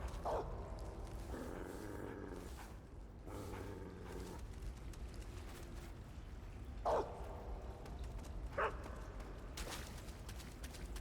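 A dog in Metal Gear Solid 3 gives a few scattered, sharp barks and yips over a low, steady game ambience, fairly quiet and spaced seconds apart.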